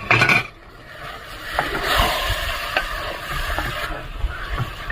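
Boiling jackfruit curry is stirred in a pot, with a continuous bubbling hiss and a few soft scraping strokes of the spoon close by.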